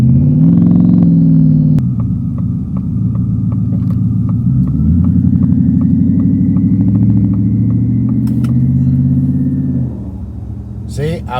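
Twin-turbo Shelby F150 pickup engine revving loudly with the exhaust cutout open, a deep rumbling drone that rises and falls through several throttle blips, close and continuous with no talking.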